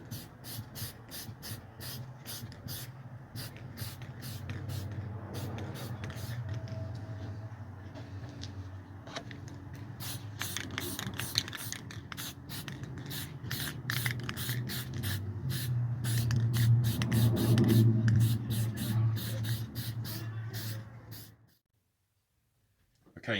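Black outer coat sprayed onto an Axial Scorpion RC body, a close, steady hiss of spray paint broken by rapid clicking bursts, continuing for about twenty seconds before stopping.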